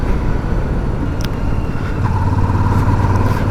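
Royal Enfield Super Meteor 650 motorcycle being ridden, its steady engine drone and wind rush continuous and close throughout, with a rising tone joining near the end.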